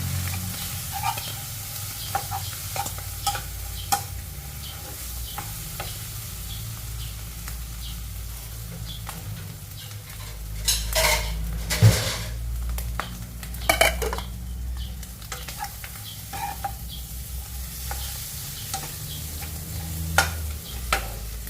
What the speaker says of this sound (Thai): แล้วก็ผัดค่ะ